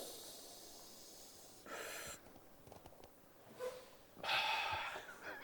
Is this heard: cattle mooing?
no